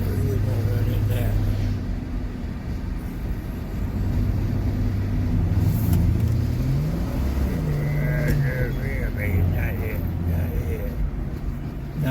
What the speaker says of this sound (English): There's a big old truck coming.